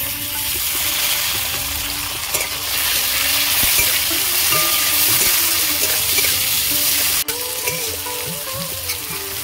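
Chopped tomato hits hot oil with fried onion, slit green chillies and whole cumin in a pan, the base for a katla fish curry with potato and cauliflower; a loud, steady sizzle and crackle continues throughout with no voices.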